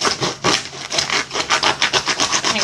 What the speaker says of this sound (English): take one of these big old serrated knives and start sawing